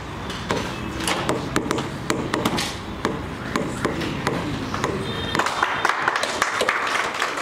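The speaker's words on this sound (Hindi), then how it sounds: "बजते रहना चाहिए ताली, अरे ताली बजते रहना चाहिए।" Students in a physics class keep up a steady stream of sharp hand claps, many overlapping taps at close range, which continues without pause for the whole stretch with no talk heard.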